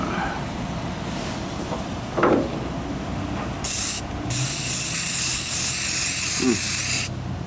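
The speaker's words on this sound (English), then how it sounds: "throw some primer up on there" An aerosol can sprays primer onto a welded wheel arch repair on a 1998 Ford Ranger. A short hissing burst is followed by a longer continuous spray, both close and loud over a steady background rumble.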